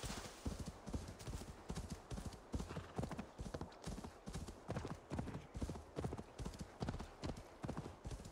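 Steady rhythmic clip-clop of a horse's hooves as a rider travels through woodland in Assassin's Creed Valhalla on PC, with regular galloping beats and faint background game ambience.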